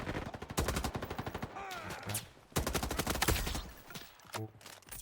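Rapid bursts of gunfire from a laser-sighted gun in the Roblox shooter Frontlines, several quick volleys in a row with short pauses between, loud and close.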